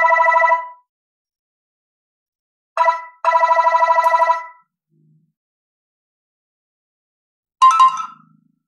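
A mobile phone rings with an electronic ringtone on a call dialed by an Arduino Uno through a SIM900A GSM modem, loud close bursts separated by silences, the last burst cut short.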